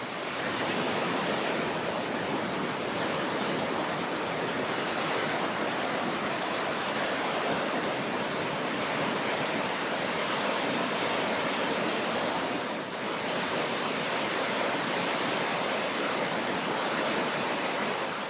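Sea waves breaking on a Spanish coast, a dense continuous wash of surf heard up close, steady and loud throughout without any talk.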